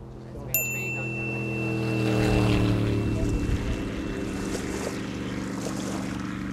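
Small waves washing steadily against a mucky river bank, with a low engine-like drone and a brief high tone near the start, continuous and moderately near.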